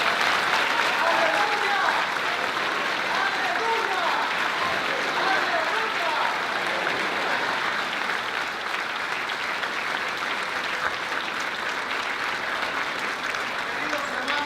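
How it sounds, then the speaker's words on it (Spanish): Congregation at an Easter Sunday church service breaking into sustained loud applause that fills the whole stretch, with voices chanting and calling out over the clapping throughout. "Un fuerte aplauso para nuestro Rey."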